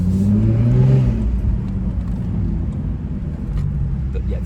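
Jaguar F-Type 3.0 V6 P380 all-wheel-drive convertible from 2018 accelerating hard, engine note rising then dropping briefly with a quick gear shift near the start before settling into a steady loud drone; no one speaks.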